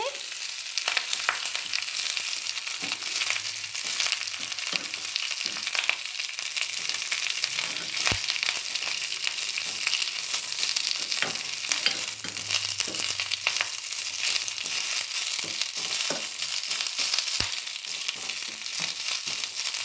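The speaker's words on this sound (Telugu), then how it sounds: "అవి బాగా వేగాలండి ఇక్కడ మనకు క్రిస్పీగా వచ్చేంత వరకు వేగాలి" Washed, dried moringa leaves fry in a little oil until crispy, giving a steady, even sizzle and crackle that runs on without pause, close by and with no voices.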